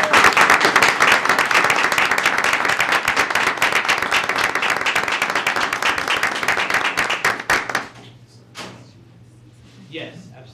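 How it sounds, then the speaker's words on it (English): A round of applause at a Gaithersburg city council meeting: dense sustained clapping from the audience for about seven seconds, then thinning to scattered claps and quiet room noise with a brief voice near the end. "let's give them a great round of applause"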